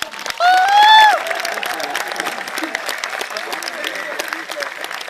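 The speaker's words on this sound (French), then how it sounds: "on peut déjà les applaudir" At a Micromania game tour event in Lille in 2011, a crowd applauds a game demo team; a sharp whistle cuts in at the start, then steady, close applause continues.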